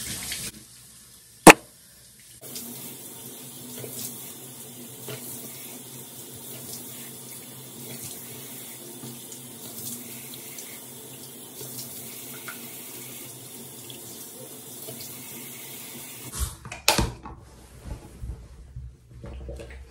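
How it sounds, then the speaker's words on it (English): A bathroom sink tap runs steadily for a face rinse, giving a continuous close splashing rush. Water stops abruptly near the end, and a few wet splashes and knocks follow. "But now I'm just gonna rinse my face."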